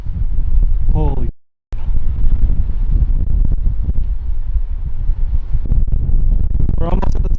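Strong wind buffets the microphone on an exposed mountain summit in the Appalachians, a steady loud rumble that runs nearly the whole time, briefly cutting out, with voices speaking over it.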